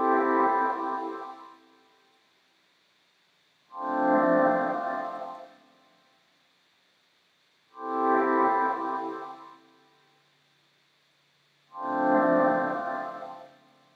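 Four sustained synth chords on 100% wet reverb, each swelling in and fading into a long washy reverb tail, separated by short gaps of near silence.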